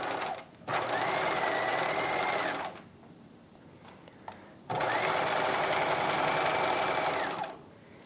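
A sewing machine runs in two steady bursts of rapid stitching as it sews around the outer edge of a skirt pocket, pausing briefly in between for a pivot, close and clear.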